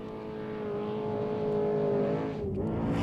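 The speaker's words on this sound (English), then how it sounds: "Kevin Thompson races to 3rd across the line" An off-road race truck in the Vegas to Reno desert race roars across the finish line, its engine note loud and sustained with a rising then dipping pitch as it passes close by.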